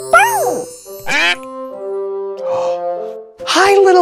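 Cartoon duck quacking in a children's animated show, a few bright honking calls spread across the moment among playful tonal sound effects, with no talking.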